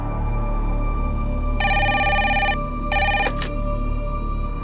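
An indoor telephone rings in two bursts, the first longer and the second cut short, over a steady background hum with no talking.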